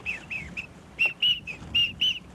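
A teal duck call, a small whistle-type call for green-winged teal and widgeon, blown in a run of sharp, high whistled peeps, some short and some held a little longer, with soft background noise.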